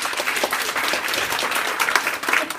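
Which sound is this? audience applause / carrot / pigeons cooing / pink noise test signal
audience applause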